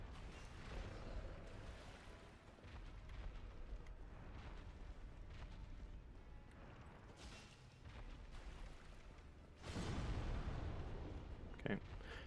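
A deep rumbling explosion bursts out late in the video game Dark Souls: Remastered, loud and low, after a stretch of steady combat noise and background rumble.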